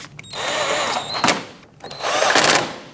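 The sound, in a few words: tightening bolts on Nissan Murano engine with a power tool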